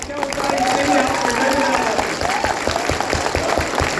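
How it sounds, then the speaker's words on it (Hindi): Workshop audience applauding loudly on cue, a dense continuous burst of clapping from a crowd with a voice heard over it. "जोर जोर से तालियां बजाइए"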